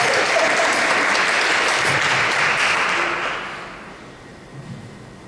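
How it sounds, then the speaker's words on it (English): An audience at a library talk breaks into warm applause that holds steady, then fades away into a quiet room near the end. "she deserves a round of applause for that"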